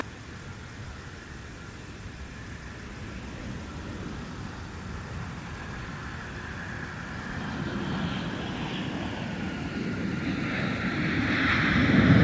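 A jet takes off from runway 17 at Minneapolis–St. Paul airport in winter, a broad engine roar swelling steadily louder over the whole stretch, distant at first then nearer, with no voices.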